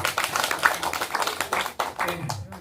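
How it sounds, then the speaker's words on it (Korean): Audience clapping after a talk's request for applause, a dense run of hand claps that thins toward the end, with faint speech mixed in beneath. "박수 좀 부탁드립니다."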